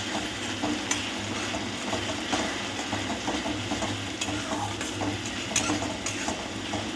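Tomato, ginger and garlic paste fries steadily in a pan, a continuous close sizzle with scattered stirring scrapes and a low hum underneath.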